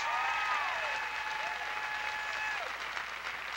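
An audience at a gospel concert applauding the introduction of a pianist, a steady wash of clapping throughout, moderately distant, with a faint sustained musical tone ringing underneath.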